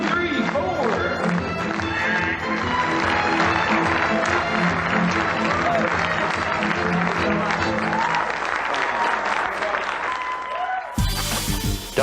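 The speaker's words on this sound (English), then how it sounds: "Everybody, clap along." Audience members at a magic show clap along in rhythm while voices talk over the steady beat, until it cuts off abruptly near the end.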